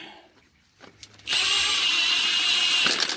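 A power drill driver with the torque set low tightens a starter bolt on a 2003 GM Suburban, Silverado, Sierra, Tahoe or Yukon: quiet shop rustling, then a loud, steady whirring burst of nearly two seconds, close up.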